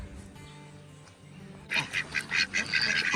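Girl ducks in a backyard garden quacking in a burst of repeated loud calls after a quieter opening stretch, close by and without talk.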